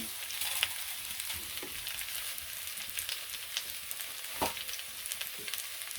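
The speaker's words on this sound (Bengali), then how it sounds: "এই যে আলু আর মুখি এগুলো লাল লাল হয়ে গেছে মানে ভাজা হয়ে গেছে" Potato and taro pieces fry in a pan in a rural kitchen, giving a soft, continuous sizzle and hiss with occasional pops and light stirring knocks, fairly quiet and without voices.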